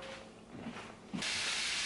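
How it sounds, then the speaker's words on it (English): Steady sizzling hiss of food frying in a pan, which grows suddenly louder and brighter partway through as more hits the heat. "I do get complaints about frying noises on a cooking channel"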